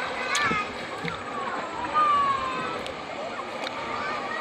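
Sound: children splashing while swimming and bathing in a river

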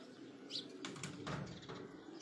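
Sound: racing pigeon flying, wings flapping

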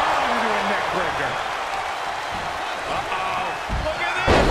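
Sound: neck breaker slam impact in WWE 2K22 video game

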